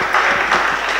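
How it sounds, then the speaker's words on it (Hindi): Loud, dense applause from a poetry-recital audience at a college, steady clapping filling the whole moment with no voices over it. "हम चाहते हैं कि एक बार जोरदार तालियों से जीवित करिए"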